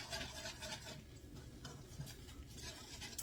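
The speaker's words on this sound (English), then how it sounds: "I'm just going to keep stirring this in until it all gets chunked up" A spoon scrapes and stirs sausage through thick gravy in a pan, soft repeated swishes and light clinks close by, with no talking.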